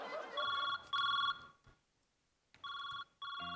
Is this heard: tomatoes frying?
no